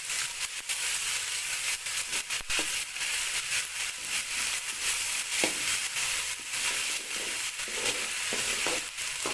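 Ginger paste frying with browned onions in a pan, a steady loud sizzle with scattered crackles and pops plus occasional stirring scrapes throughout.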